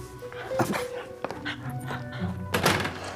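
A small dog in a period country-house setting gives short whimpers and yips amid thumps and background movement, fairly close, with a faint voice.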